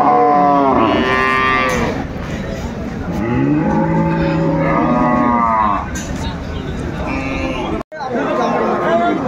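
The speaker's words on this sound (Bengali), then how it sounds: "দেখছিলাম এখানে চমৎকার একটি গাভী বাচ্চা।" A cow with her calf moos repeatedly and loudly at a busy cattle market, several long lowing calls close by over constant crowd chatter and people talking.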